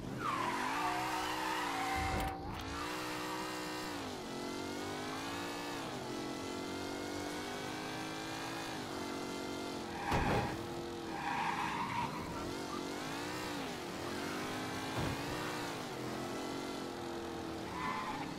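Car engine droning steadily with rising and falling revs while tires repeatedly squeal and skid, loud and close throughout a Mafia 3 driving sequence, with no talking.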